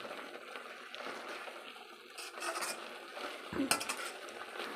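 Grated carrot cooking down in sugar with cardamom powder for carrot halwa is stirred in a pan, giving soft scraping and shuffling spoon sounds, quiet and intermittent, with one sharper clink near the end.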